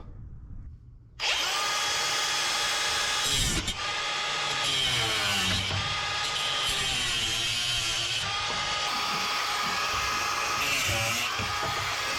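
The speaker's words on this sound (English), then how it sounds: "I decided to use a cutoff wheel because the plasma cutter wouldn't reach where it is" An abrasive cutoff wheel grinds through a bracket on the frame of a 1953 Chevy 3100 being swapped onto an S10 frame. After a second of quiet, a loud, steady, close whine runs continuously with slight shifts in pitch and no talk.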